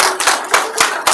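A few people clap at a park and recreation board meeting, about four or five sparse, separate bursts of hand claps spaced across a second, fairly close and moderately loud with no talk over them.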